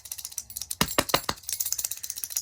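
A homemade rhythm stick filled with paper beads is shaken, producing a dry, papery rattle of quick clustered clicks, with a few louder sharp shakes in the middle and a fast, even patter afterward.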